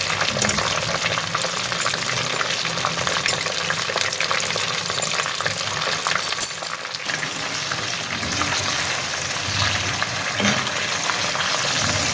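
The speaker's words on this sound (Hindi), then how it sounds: "फ्लेम को मैंने हाई कर दिया ताकि अब ये अच्छे से फ्राई हो जाए।" Homemade potato fries bubble and crackle loudly in hot oil over a high flame, a dense unbroken sizzle heard close up with no voices.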